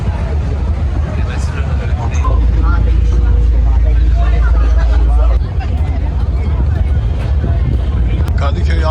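Deep engine drone of the last ferry to Avcılar idling at a terminal, with wind buffeting and a crowd chattering nearby.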